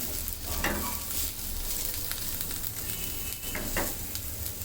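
Onions frying in a pan for a gourd-leaf bharta: a steady, dense sizzle with intermittent scraping stirs of a utensil against the pan, close and fairly loud.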